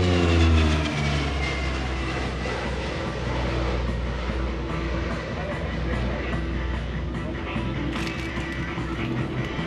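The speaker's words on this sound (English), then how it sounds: "I believe he's going to come around and do another high speed pass." A Grumman OV-1 Mohawk propeller aircraft roars past on a high-speed pass at an airshow, with a steady droning engine note and a shifting pitch, while a voice talks over it.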